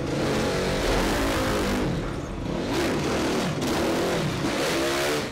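A stunt motorcycle descends steps through narrow alleys, its engine revving and surging loudly and continuously with rising and falling pitch, close by and with no talk.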